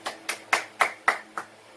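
A small classroom group claps in six evenly spaced, crisp hand claps, like a short rhythmic round of applause for a student presenter.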